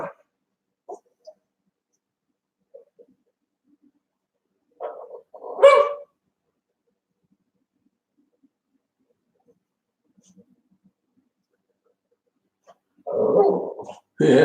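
Someone's dog, Dazer, gives a couple of short barks or growly yips at moderate distance, spaced far apart with long near-silent gaps in between.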